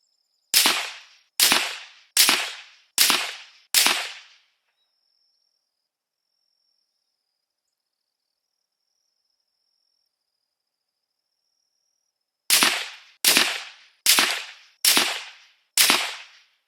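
Ruger American rimfire rifle in .17 HMR firing Remington and Hornady VMAX 17-grain rounds at a 100-yard range: five sharp, loud shots at a steady pace, a long quiet pause, then five more evenly spaced cracks.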